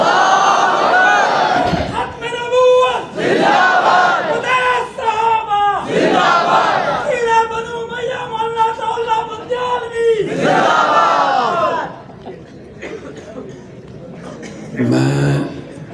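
At a religious gathering at Tarnol Chowk, Islamabad, a crowd loudly chants slogans in repeated rhythmic surges for about ten seconds, then the chanting fades into quieter scattered voices and a brief final shout.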